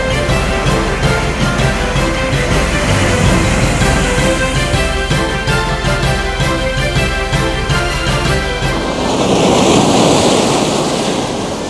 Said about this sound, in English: there's some really, really big waves that are coming through